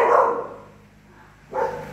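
Dogs barking outdoors at night, two clear bursts of barking at the start and end with a quieter stretch between, fairly close and loud.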